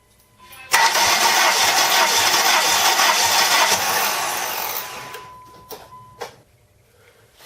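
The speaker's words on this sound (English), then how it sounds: "I'm going to turn the motor over" A 1998 Dodge Neon engine cranks over on the starter during a compression check, a loud steady rhythmic churn lasting about four seconds before winding down, followed by a few faint clicks.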